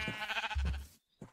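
Sheep in the video game Sky Factory bleat twice, a long wavering bleat followed after a short gap by a brief second one, close and clear.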